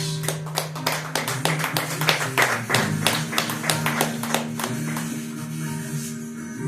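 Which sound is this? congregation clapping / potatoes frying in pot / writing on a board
congregation clapping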